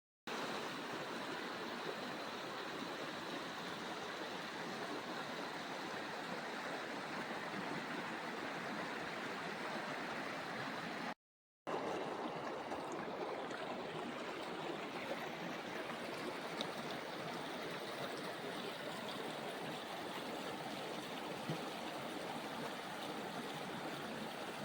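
The Sabarmati river flows near Rampur Kot as a steady, soft rushing wash of water heard from a vantage point above, even and unbroken apart from one brief dropout, with no voices.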